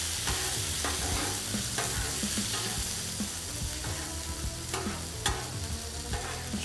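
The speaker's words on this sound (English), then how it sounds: "Let that beer cook down a little bit." Beer glaze bubbling down in a pan with ribeye steak, mushrooms and onions, a steady hiss of sizzling with repeated utensil scrapes and clicks, close and unaccompanied by speech.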